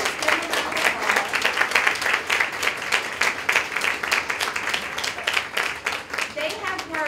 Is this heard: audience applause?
yes